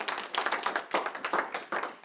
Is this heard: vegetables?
no